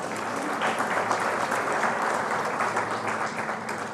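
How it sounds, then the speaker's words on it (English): An audience at a women authors' award ceremony applauds, with steady, even clapping that holds at a moderate level for the full few seconds. "they deserve a round of applause for their hard work."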